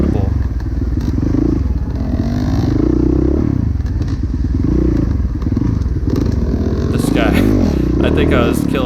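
A 450 dirt bike racing engine, loud and close throughout, revving up and down on a tight section of a race course, with clattering and thumps over the track; a voice talks over it.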